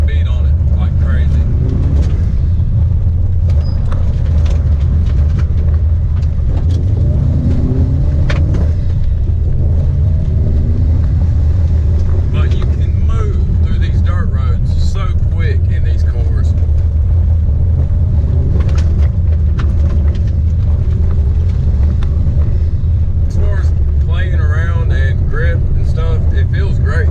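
Stock 2012 Subaru WRX STI driving mountain rally roads, its engine drone and road roar steady throughout with wind buffeting, while someone talks over it.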